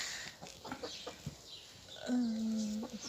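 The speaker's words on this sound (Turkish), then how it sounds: "tavuklar eşliğinde kahve içiyoruz" Hens cluck and cackle in short bursts close by, with a person speaking softly over them and one longer drawn-out call near the end.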